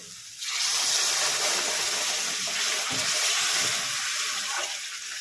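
Hot water poured into a cooking pot of chanar dalna, a vegetarian paneer curry, a loud steady rushing hiss as it hits the hot pan, close and continuous for several seconds.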